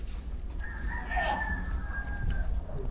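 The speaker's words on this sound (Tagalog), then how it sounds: "ang daming manok dito" Rooster crowing once with a sustained call, set among many chickens with faint clucking and steady low rumble behind.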